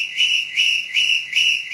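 Repeated whistling, four sharp rising whistle bursts in steady rhythm, loud and close, with no voices.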